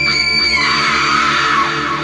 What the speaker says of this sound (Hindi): उसका भयानक चेहरा देखते ही नीलम जोर से चीखी।